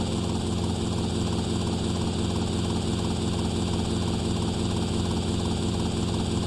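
A helicopter's engine and rotor drone steadily and loudly in GTA Vice City, a constant unbroken hum with no talk.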